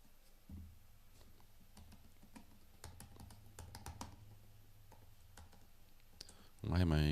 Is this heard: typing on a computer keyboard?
yes